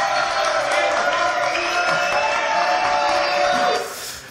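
A television studio audience applauds and cheers in a dense, loud wash of clapping with a few whoops, which drops away abruptly near the end.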